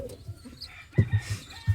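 Racing pigeons coo quietly nearby, a few soft low throaty calls in short bursts near the end, amid faint background noise.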